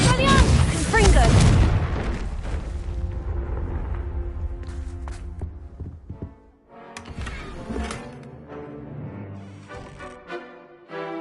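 Confringo blasting spell in Hogwarts Legacy, a loud booming explosion at the start followed by a decaying rumble, with ringing magical tones and smaller impacts trailing off.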